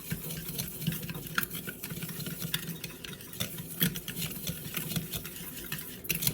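Dry minced onion and spices get mixed in a bowl, giving soft scraping and rustling stirs in an uneven rhythm, faint and nearby, with no voices.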